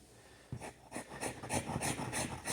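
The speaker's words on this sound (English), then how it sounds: "We're gonna scrape this." Hardened wood filler is scraped off an oak floor repair, giving a series of rhythmic rasping strokes, roughly seven in a row, close and fairly quiet, with no talking.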